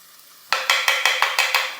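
Ground pepper and cumin powder are stirred briefly into hot oil for rasam: after a quiet start, a sudden sizzle breaks out, punctuated by about six regular scraping strokes of a spoon against the pan, close and loud.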